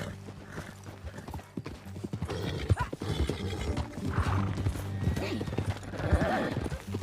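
Horse hooves clip-clop steadily through the open-world western game Red Dead Redemption 2 as a ride gets underway, with a whinny, spoken dialogue and background music layered over the rhythmic steps.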